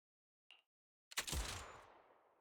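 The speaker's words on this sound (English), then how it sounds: "a crisp gunshot rings out" A single crisp gunshot in the video game Zenless Zone Zero, a sharp loud crack with a ringing tail that trails off, preceded by a brief faint click in near silence.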